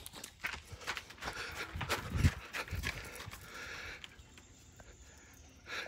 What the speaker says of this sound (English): the dogs have snuck up on me